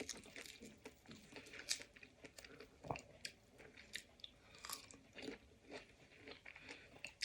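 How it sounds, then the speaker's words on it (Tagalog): Crunchy persimmon fruit being bitten and chewed up close, with repeated crisp crunches and wet mastication sounds in an irregular rhythm, no talking. "Tikman naman natin itong persimmon."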